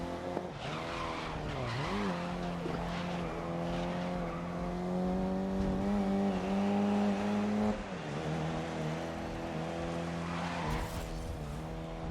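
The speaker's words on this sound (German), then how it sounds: "Schönen Drift hinlegen" A go-kart in the racing game GRID (2019) drifts through a corner, its buzzing engine wavering in pitch under a long, continuous tire skid that squeals steadily for several seconds, with no talking.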